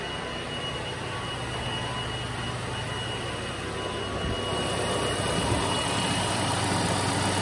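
A 2.4-liter engine in a 2017 Hyundai Santa Fe idles steadily with a low, even hum and slight vibration, growing a bit louder toward the end, with no talking.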